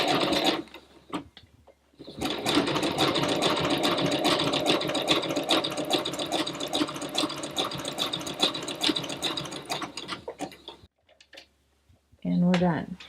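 A sewing machine fitted with an overcast presser foot stitches along a fabric edge in a steady, close, busy whir lasting most of the passage, stopping briefly near the end before a short burst of speech.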